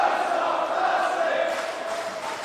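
Crowd at a pro wrestling match (Pro Wrestling World Cup quarter final) cheering in a sustained, roaring wash of voices that fades slightly toward the end; no talk over it.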